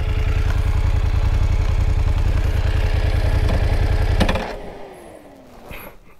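A motorcycle engine idles with a loud, steady low throb and mechanical clatter, then cuts off abruptly after about four seconds, leaving quiet ambient noise behind.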